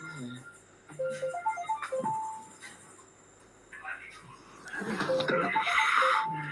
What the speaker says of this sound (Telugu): మీ ఇద్దరిలో ఎవరికో ఫోన్ వస్తుంది.